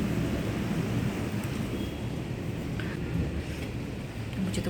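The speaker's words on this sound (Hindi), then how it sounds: "अभी भी थंडरिंग लाइटनिंग ये सब हो ही रहा है" A thunder and rain storm seen from indoors near an open window, with a dense, steady roar of heavy rain and a low rumble of thunder running continuously and loudly.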